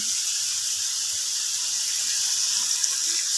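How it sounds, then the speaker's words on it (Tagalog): A steady hiss of water streaming into a cooking pot of pork for sinigang, continuous and even from start to finish, with no talking. "lagyan natin siya ng tubig"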